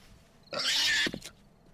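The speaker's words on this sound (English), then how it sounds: "Sounds like the pig was getting attacked." A pig in the survival video game 7 Days to Die lets out one harsh, loud squealing grunt under attack, lasting about half a second, followed by a couple of faint thumps against a quiet background.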